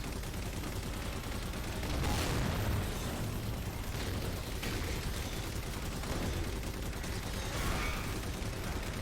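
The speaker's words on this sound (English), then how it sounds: "There's just something shooting at me from the side." Gunfire and explosive bursts in the video game Halo 4, a dense wash of shots and booms running steadily throughout at a moderate, distant-sounding level.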